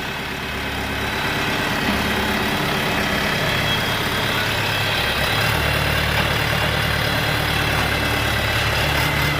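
A Shifeng 404 tractor with a four-cylinder Yuto engine idles steadily and loudly throughout, a continuous low diesel rumble with a constant throb and no speech.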